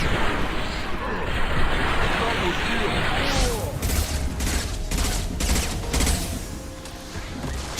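Mass Effect video game combat with continuous gunfire and rocket blasts, a dense loud barrage of rapid shots and explosions that never lets up, with a voice talking over it.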